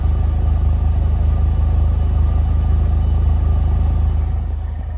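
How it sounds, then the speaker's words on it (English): A 2009 Saturn Sky Redline's 2-liter Ecotec engine idles steadily, heard close at the driver's side exhaust pipe as a low, even, continuous rumble with no talk, easing off slightly at the end. "Here's a listen to the exhaust pipe on the driver's side."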